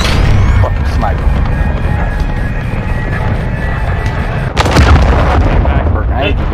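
A close air support strike in Call of Duty Modern Warfare 2 brings a continuous rumble of heavy explosions and gunfire. A sharper, louder blast hits near the end.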